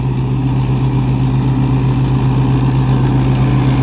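An old-model Sonalika tractor engine runs at a steady idle, a loud low rumbling drone with an even throb that holds throughout.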